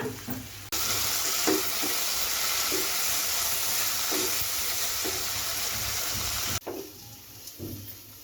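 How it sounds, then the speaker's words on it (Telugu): Mustard seeds, cumin, chilies and coriander fry in hot oil with a loud, steady broadband sizzle that starts abruptly, holds for several seconds with faint stirring taps, then cuts off, leaving softer kitchen sounds. No one speaks. "ఆవాలు జీలకర్ర మిర్చి కొత్తిమీర వీటిని వేయించుకోవాలి మంచిగా"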